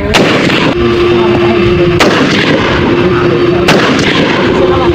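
Rifles fire at an army reservist marksmanship range: a few sharp, loud gunshots sound at irregular intervals over a continuous noisy outdoor background.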